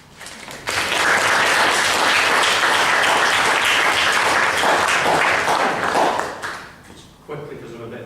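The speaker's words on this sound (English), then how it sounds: "you wait for an applause." Loud, full audience applause follows a speech during a speaking-skills training session. It swells suddenly, holds as a dense wall of clapping for several seconds, then fades and gives way to quieter room sound.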